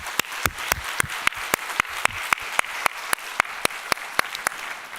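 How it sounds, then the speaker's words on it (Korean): Church congregation applauding during a Sunday worship service, a steady wash of many hands clapping together with a few sharper individual claps standing out at an even pace throughout. "우리 형제 자매들 축복하면서 박수하겠습니다."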